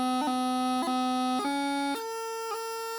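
A bagpipe practice chanter plays the second measure of the jig Glasgow Police Pipers, five reedy sustained notes broken by quick grace-note flicks. It sounds bright and steady, close and fairly soft, with no voices.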